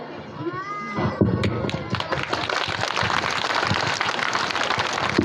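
Applause from an audience at a Republic Day celebration: after about a second of background noise, dense, steady clapping builds and fills the rest of the clip, loud and sustained with a crowd murmur mixed in.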